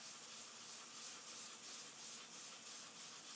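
Steady hand sanding of painted black trim with sandpaper, a continuous soft rubbing hiss at close range with a gentle back-and-forth rhythm and no talking.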